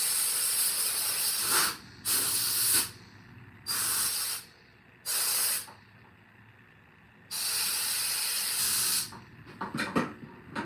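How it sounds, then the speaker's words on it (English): Compressed air blasts through the holes of a Briggs and Stratton 10,000 watt generator in a series of loud, hissing bursts of varying length separated by quieter gaps, ending with short rapid puffs. "we're just basically blowing through all these holes again that we cleaned out anyway"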